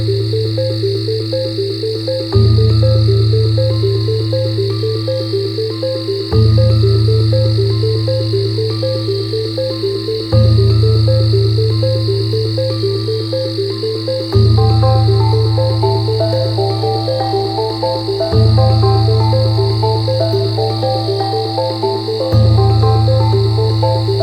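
Crickets chirp in a continuous, high, steady trill, layered over loud pulsing calls that repeat in a regular rhythm and a low humming drone, with no voices.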